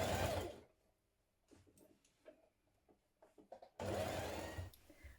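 A sewing machine stitches a hood onto a hooded jacket in two loud running bursts, one at the start and a longer one at the end, with quiet handling clicks and taps between them.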